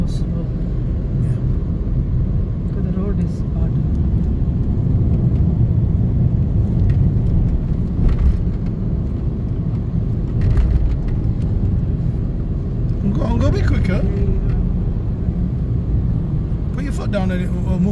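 A car rolls slowly over a rough, winding road on the way to a dam, giving a constant low road rumble and engine noise, with people talking inside the car over it.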